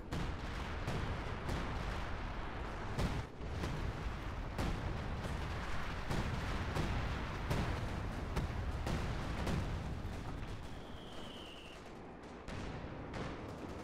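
Artillery barrages and gunfire in the WWII strategy game Company of Heroes 2, a dense, continuous stream of booming impacts and sharp cracks rolling on for the whole stretch, loud and layered with no voices.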